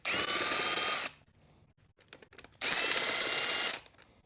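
A power drill backs out screws on a pull-start engine that will not pull its cord, with two loud sustained whirring bursts of about a second each separated by a quieter gap of small clicks and handling noise.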